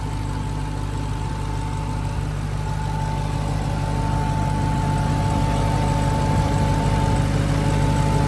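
Supercharged engine of a 2018 Dodge Challenger SRT Demon idling smoothly in a loud, steady, deep rumble that holds unbroken throughout, close by and with no talking.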